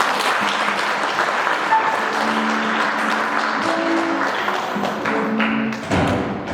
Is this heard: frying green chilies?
no